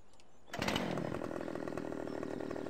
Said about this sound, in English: we're going for the good old chainsaw